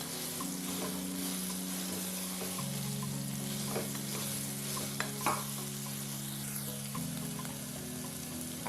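Shallot paste being stirred into a soya chunk gravy in a pan, a faint, steady frying sizzle with soft scraping strokes, close up, with a constant low hum underneath.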